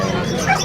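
A dog at a pet market barks and yips close by, a short excited burst over a busy crowd with people talking around it.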